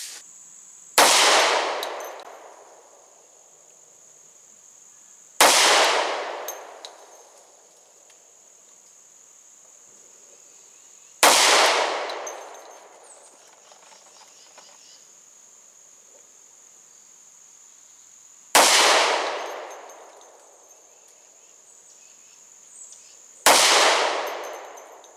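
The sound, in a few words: Kimber Rapide Black Ice 10mm 1911 pistol shots, five shots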